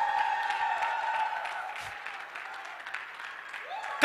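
Audience clapping at a cricket league cup unveiling, fairly light and steady, with a voice and a tonal background running under it.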